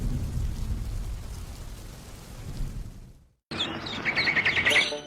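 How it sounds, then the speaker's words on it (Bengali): Steady rain falls with a low rumble for about three seconds, then after a brief cut the rain continues, joined by bright chirping birdsong that rises toward the end. "বৃষ্টি শুরু হয়েছে আবার।"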